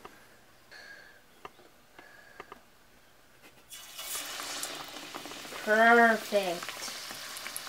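Kielbasa sausages deep frying in hot oil, a dense broadband sizzle that swells loud after a quiet start, with a brief spoken word near the end.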